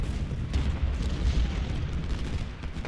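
Sustained rumbling battle din of rifle and artillery fire in Ultimate General: Civil War at Gettysburg, dense low booms rolling continuously and fairly loud, with no voices over it.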